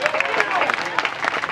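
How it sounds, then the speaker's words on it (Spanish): A church congregation applauds together in a steady, dense patter of clapping, with voices mixed into the clapping throughout. "Dele ese aplauso al Rey."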